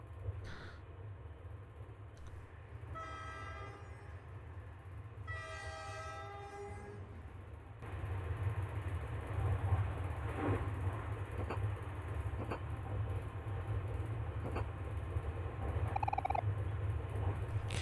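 Train in the video game OMORI: a steady low rumble of the running train throughout, with two short horn-like tonal blasts early on, then a louder, fuller rolling clatter in the second half, and no talking.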